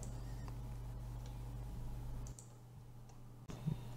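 Faint, sparse computer mouse clicks while working in a free video editor, a few isolated sharp ticks over a low steady hum, quiet and close with no speech.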